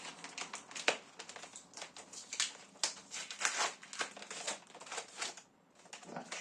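A parcel being torn open and unwrapped by hand, close crinkling and crumpling of packaging in irregular bursts with sharp rips, fairly quiet and with no voice over it.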